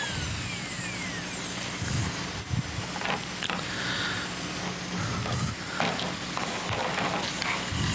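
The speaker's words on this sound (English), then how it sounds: "Compressor cycled on again." An air compressor runs steadily in a workshop setup for woodturning piercing tools, giving a continuous close mechanical hum with an airy hiss over it. The hiss stays level throughout, with no talking.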